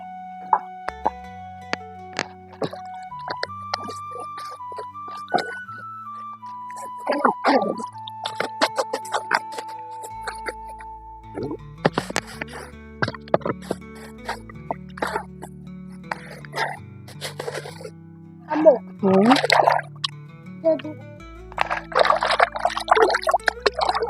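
Splashing, plopping water as food is rinsed and scrubbed by hand, a string of close irregular plops and drips with brief bursts of rubbing; a voice speaks faintly at times.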